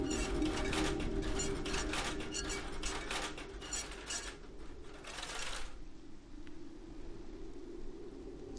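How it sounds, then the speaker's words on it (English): A hand crank turns with a ratcheting, clicking grind in the Asian horror PC game Detention, steady through the first half and then fading into a low hum. "We need to use our hand crank down here"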